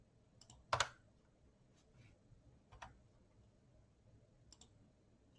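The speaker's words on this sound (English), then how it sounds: "I'm clicking around so much in this one" Computer mouse clicks, a handful of sharp isolated taps scattered over several seconds, one louder than the rest, close but faint against a quiet room with no talking.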